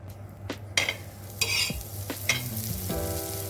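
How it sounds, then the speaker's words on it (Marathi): Cheese frankie roll toasting in butter on a hot pan, a steady close sizzle with bursts of scraping and stirring against the metal, no voices. "बटर लावून पूर्ण शेकून घेते व्यवस्थित"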